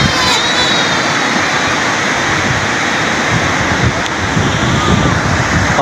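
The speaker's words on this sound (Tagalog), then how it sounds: "Lakas kasi ng alon dito, yung agos, lakas." Strong waves with a strong current roar in a dense, continuous wash of surf, loud and close, with no talking.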